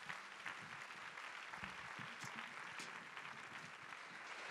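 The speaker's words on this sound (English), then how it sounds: "why don't we give the Lord another clap in the house" A church congregation claps steadily throughout, a thick, even wash of many hands from a large crowd, moderately loud, with no voices standing out.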